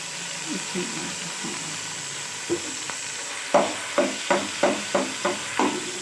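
Crushed ginger, garlic and green chillies fry in a pan for zeera pulao, with soft sizzling and a run of sharp, regular clatters like a utensil stirring and tapping against the pan.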